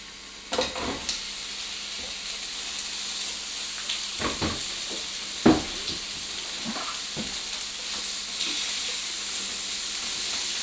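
Thick onion rings dropped into a hot pan and frying for a mild vegan curry: a continuous close hiss with a few bright knocks and scrapes from utensils, no voices.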